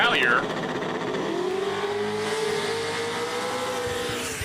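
An LSA V8 drag race car engine drones at a distance, its pitch sliding and holding steady as it runs down a drag strip, with a brief squeal at the start.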